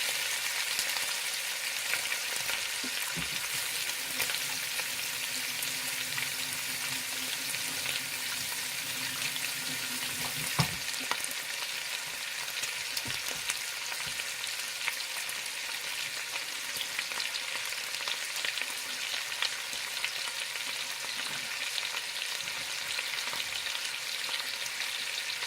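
Ground beef fries in a pot for bolognese while being broken up, a dense, loud, continuous sizzle with occasional sharp spoon knocks against the pot; no talking.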